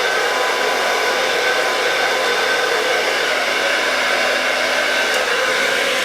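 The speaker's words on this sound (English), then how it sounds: "And my hair is drying pretty quickly now." A hair dryer blows hair dry with a loud, steady, unbroken whoosh held close throughout, with no voice.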